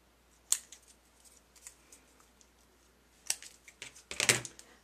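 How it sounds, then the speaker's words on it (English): Scissors snipping a white paper layer for a Christmas craft layout, with a crisp cut, soft rustling, then a quick burst of several close snips. "I'm just going to snip off"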